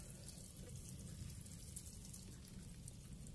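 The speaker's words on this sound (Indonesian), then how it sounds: "Dengan cara disiram seperti ini biar aku mudah mengambilnya." Water is poured over tomato plants growing in recycled bottles, a soft, steady splashing trickle heard faintly and continuously.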